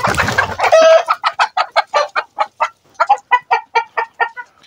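A Goliath breed hen clucks in a steady run of about fifteen sharp, evenly spaced calls, close and loud, after a brief burst of scuffling noise at the start.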